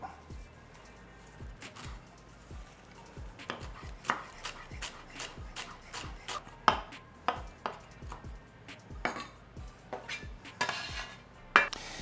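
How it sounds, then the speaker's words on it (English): A knife chops through fresh herbs and green onion on a cutting board, a brisk series of close, sharp taps in irregular bursts, with no talking. "Let me just run my knife through the herbs here and the green onion"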